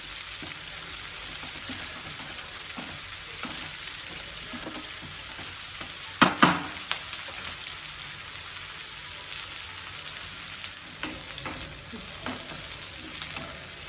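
Sliced onions sizzling in a pan for tindora fry, a continuous bright hiss with soft intermittent stirring scrapes and one louder clatter midway, close up, no talk.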